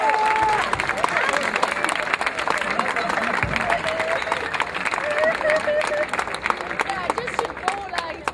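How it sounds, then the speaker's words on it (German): A crowd at an outdoor Monday demonstration claps steadily for several seconds, a dense patter mixed with murmuring voices and occasional whistles or calls. "Genau, klatscht mal"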